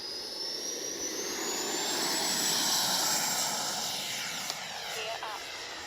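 An FMS 80mm F-86 Skyblazer RC jet flies overhead, a steady whining roar with a rising turbine pitch that swells and then slowly fades, heard outdoors.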